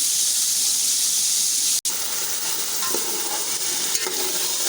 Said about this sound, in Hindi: इसी ऑयल के अंदर पकाना है इसको। आप देख सकते हैं कि मैं इसको इसी में ही मैं थोड़ा सा पकाऊंगी ताकि हमारा कीमे का कलर चेंज हो जाए।